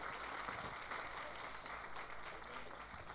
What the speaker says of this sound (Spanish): Lo recibimos con un fuerte y caluroso aplauso de bienvenida